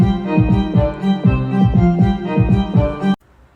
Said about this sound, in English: each of Circe's songs have the same combination of staccato strings playing the same melody, along with a kick drum playing the same beat